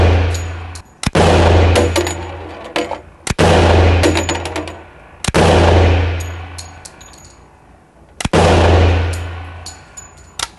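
A gun fired repeatedly, four loud sharp shots spaced about two seconds apart, each with a long ringing echo, and no talk.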